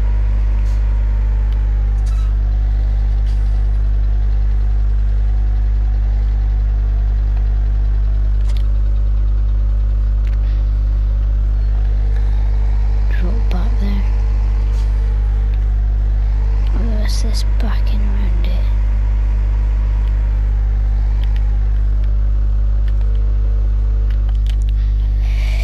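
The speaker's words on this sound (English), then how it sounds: "We've only got the two tractors, this tractor that we're driving now" A dairy farm tractor engine runs steadily while driving, a loud, constant low rumble throughout with faint voices and cab noises over it.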